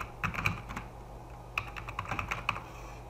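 Close, quiet keystrokes on a computer keyboard as a name is typed, falling in two short rapid runs with a brief pause between them.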